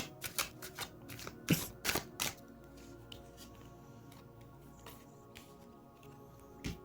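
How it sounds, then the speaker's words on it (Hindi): Tarot cards falling and being gathered up by hand, a quick cluster of soft papery slaps and shuffles at the start, then quiet with a few scattered taps, close and fairly faint. "ये कार्ड्स खुद से गिरे हैं तो मैं ले लेती हूँ।"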